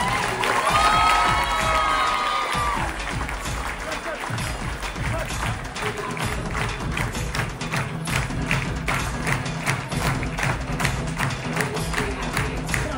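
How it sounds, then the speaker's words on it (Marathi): Sustained applause and cheering from a crowd at an award felicitation ceremony for a winning team, steady loud clapping with shouts throughout, mixed with voices and shouting at the start. "खूप टाळ्या झाल्या पाहिजे, आता खूप टाळ्या"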